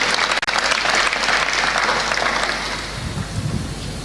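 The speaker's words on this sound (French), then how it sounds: "Sous vos applaudissements." Audience applause at a Marian pilgrimage gathering, steady and dense like rain, filling the whole stretch at a constant level and easing slightly toward the end.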